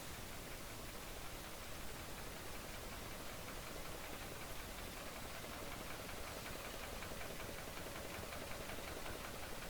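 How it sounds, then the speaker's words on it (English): A noisy engine drones inside the Splinter Cell 3 video game, a constant dense rumbling hiss that holds steady and unbroken without any voices. "this engine is so dang noisy"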